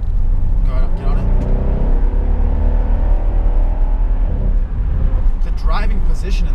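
A Mercedes SL63 AMG with a twin-turbo V8 accelerates hard at a dragstrip, a loud sustained engine roar with rising harmonic sweeps heard from inside the car, steady and dense throughout.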